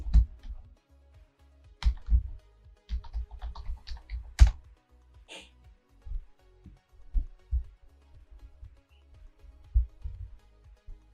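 Password being typed on a computer keyboard while running Kali Linux 2025.1a, a long run of quick, moderately close keystrokes in uneven bursts and pauses, with no talking.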